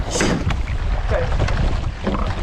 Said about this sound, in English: Gonna make us force our blades in the water here.